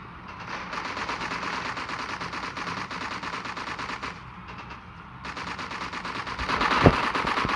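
Sniper rifle fire in a video game, dense rattling gunfire over a continuous background, with a louder single crack near the end.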